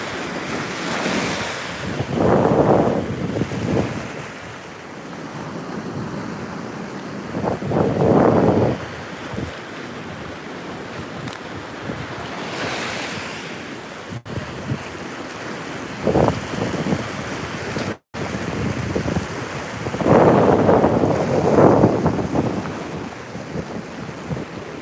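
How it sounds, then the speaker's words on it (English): Beach surf at a cut jetty, with waves rolling in and water rushing back and forth through the gap in repeated loud surges, heavy wind buffeting the microphone throughout. "You can see the water rushing back and forth across there."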